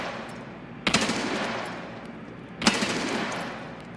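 Automatic gunfire from Escape From Tarkov, heard during a boss fight on the Icebreaker map. Two loud, short bursts go off about two seconds apart, each with a sharp crack followed by a decaying rattle and echo.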